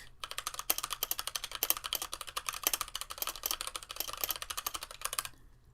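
Rapid, close clacking of keys on a mechanical keyboard, a steady burst of typing that stops abruptly near the end.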